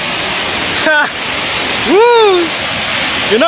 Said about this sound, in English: we got to the waterfall